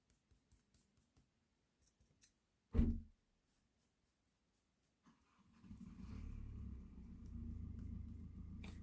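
A car engine starts with a single loud burst, then settles into a steady low rumble that holds to the end, coming from nearby after a few faint clicks and taps.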